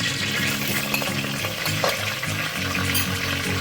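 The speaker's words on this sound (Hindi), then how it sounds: "दो चम्मच अदरक लहसुन के पेस्ट वो ऐड करूंगी।" Ginger garlic paste sizzles in hot oil in a pan, a steady dense crackle and hiss with stirring scrapes, close and continuous.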